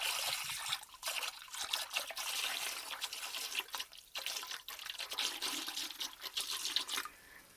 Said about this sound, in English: I use my trusty cup here to get as much water out of the tank as possible